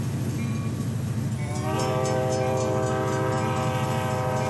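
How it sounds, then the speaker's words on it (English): Small locomotive in the Rails Unlimited video game running steadily, with a constant rumbling engine drone and a sustained horn-like whistle tone joining partway through, loud and continuous with no talking. "It's a little locomotive."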